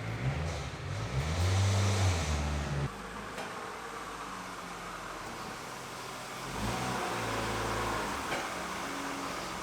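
A BMW E36 M3 shuffled between spots in a home garage: a low engine rumble rising and falling as the car moves, easing to an idle hum, then revving again near the end.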